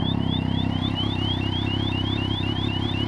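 An Abus Detecto 7000 RS1 disc lock alarm fitted to a motorbike sounds continuously, a loud, rapidly repeating rising electronic whoop that pulses steadily throughout with no pauses.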